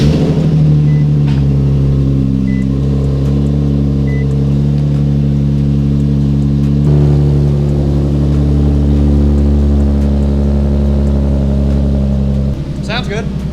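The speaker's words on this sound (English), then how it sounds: "I'm gonna go ahead and turn the car on and we'll see if our work is complete." A car engine runs steadily at idle after an EVAP system and fuel sending unit repair, a continuous low hum with stable harmonics for the whole stretch, close by, with a brief click near the end.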